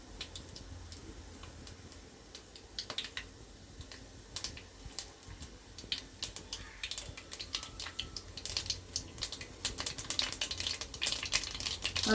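Mustard seeds and urad dal spluttering in hot oil for a Tamil fish curry, a scatter of sharp little pops and ticks that grow denser and louder toward the end, close and without talk.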